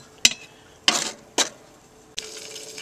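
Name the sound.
charcoal being loaded onto a cast-iron Dutch oven lid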